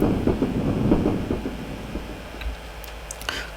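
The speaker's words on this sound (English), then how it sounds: "And the freight cars clattered along." Freight cars clatter along in a steady rumble, the low rhythmic rolling fading and thinning toward the end, with a few light clicks and squeaks near the close.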